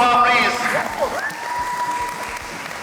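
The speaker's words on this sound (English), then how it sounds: "Round of applause for her" Audience applause breaks out at a speed dating event with fifty singles, a dense burst of clapping from a crowd with voices calling out over it, tapering off.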